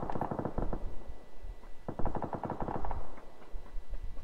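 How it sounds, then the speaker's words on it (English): Rapid SMG fire in PUBG, rattling in several short close bursts with brief gaps between them, moderately loud. "That is a handgun SMG."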